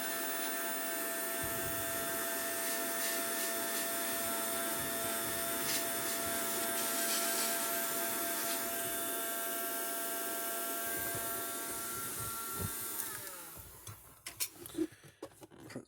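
A hot air gun blows a steady whining, roaring stream while heating adhesive on a Gallagher MBX2500 electric fence charger, running loud and continuous before switching off near the end.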